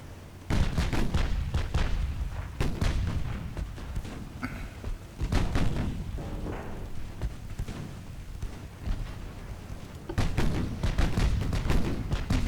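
Heavy naval guns fire repeatedly in the Ultimate Admiral Dreadnoughts video game during a 1920 German convoy attack, with deep booming blasts and rumbling salvos spaced every few seconds over a constant low battle drone.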